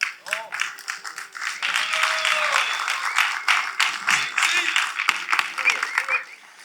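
An audience at a men's church gathering applauds steadily for several seconds, a dense crackle of clapping over which a voice speaks.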